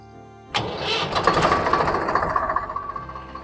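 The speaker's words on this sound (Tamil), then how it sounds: "இப்போ நம்ம வண்டி ஸ்டார்ட் பண்ணியாச்சு." A tractor engine cranks and fires up abruptly, then settles into a rough, chugging idle with regular pulsing beats, close and fairly loud.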